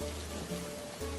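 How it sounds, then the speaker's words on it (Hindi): Steady rain falls outside while dosas are cooked indoors, a continuous soft hiss layered over a low steady hum, with no voices. "बाहर बारिश की छम छम आवाज आ रही है"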